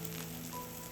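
A buckwheat pancake sizzles in oil in a frying pan, giving a steady, close hiss throughout the brief moment with no talk.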